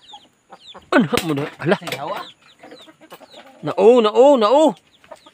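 Chickens cluck in bursts at a rural farm where bananas are being planted, with people talking nearby between the calls.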